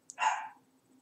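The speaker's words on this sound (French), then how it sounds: "maintenant il y a un chien" Dog gives a single short bark indoors, fairly close and sharp, then quiet.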